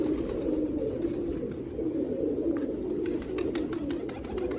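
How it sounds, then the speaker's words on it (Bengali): Pigeons in a loft coo together, a soft, steady chorus of overlapping low calls with a few faint chirps, heard quietly and without talk. "পায়রাগুলো সব ঘরে ঢুকে যাক"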